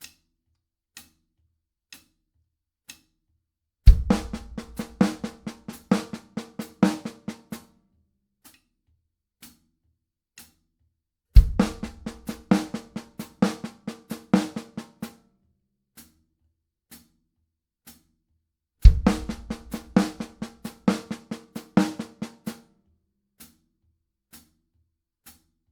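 A drum kit plays a paradiddle exercise starting on the E of each beat: three loud, busy bursts of rapid sticking with a bass drum thump at each start, separated by steady, sparse metronome-like clicks.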